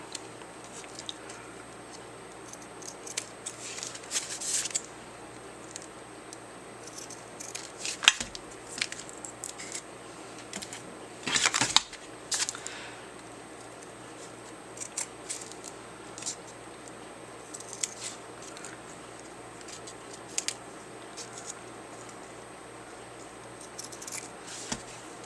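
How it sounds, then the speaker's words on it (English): Scissors trim excess duct tape from a small 6x6 handmade art journal, giving a handful of faint, crisp snips and light crinkles spaced out over quiet room tone. "I'll probably just use scissors, I guess, trim off the excess"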